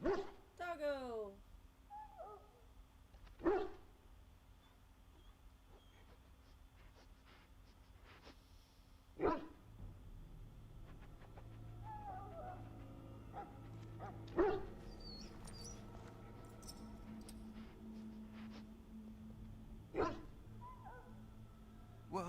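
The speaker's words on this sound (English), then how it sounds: "Now I can treat the dog properly, poor fella." A dog in a video game gives several sharp barks and yips spaced a few seconds apart over a quiet game backdrop, with someone talking in between.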